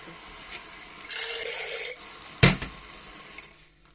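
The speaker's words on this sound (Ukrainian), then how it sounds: "Ну, а буде ще вода з крану тепленька." Warm water runs steadily from a tap into a jar for about three seconds, with a sharp clatter midway, then the flow stops.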